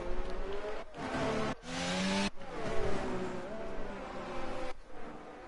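A Mercedes Formula 1 car spins out in an F1 22 race at Monza, the engine note rising and falling with abrupt cuts and squealing surges, loud and close, under a commentator's voice.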